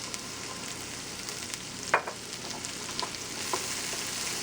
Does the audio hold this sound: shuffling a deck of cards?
no